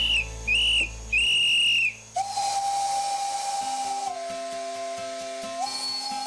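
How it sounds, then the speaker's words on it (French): A steam locomotive's whistle gives three short shrill blasts, then a long lower steady tone with hissing steam, loud and near on a heritage railway in the Ardèche, with no speech. "Coup de sifflet, panache de fumée et effluve de charbon"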